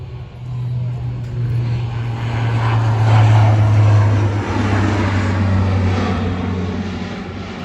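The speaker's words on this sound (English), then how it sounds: "as he approaches right across from us, watches the nose of the aircraft starts to come up to about a 30-degree climb" Blue Angels jet climbing after takeoff at an air show in Pensacola, Florida, a loud sustained engine roar swelling and fading over several seconds, with a commentator's voice over it.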